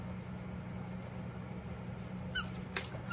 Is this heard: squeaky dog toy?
yes